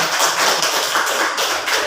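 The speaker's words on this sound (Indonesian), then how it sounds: "tepuk tangan untuk kita semuanya" A group clapping hands together during a group guidance session, a dense, steady burst of close applause lasting a couple of seconds.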